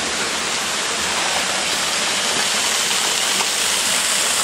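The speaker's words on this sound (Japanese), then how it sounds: "滝流れてますね。" A waterfall cascades in two or three steps near a shrine by an abandoned tunnel, giving a dense, loud, unbroken rush of falling water.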